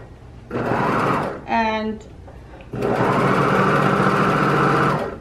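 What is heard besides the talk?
serger overlock sewing machine stitching fabric edge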